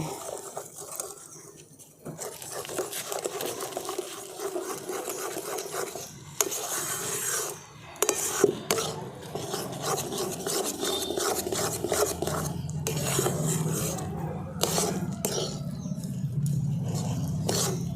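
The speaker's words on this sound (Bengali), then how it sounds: "এবার এই চালের গুঁড়োটা সেদ্ধ না হওয়া পর্যন্ত আমরা কনস্ট্যান্ট এইভাবেই নেড়ে যাব" Rice flour is stirred continuously into milk in a pan, producing steady close scraping and rasping strokes of a spoon against the pan, with a brief lull early on before the rubbing resumes and thickens toward the end.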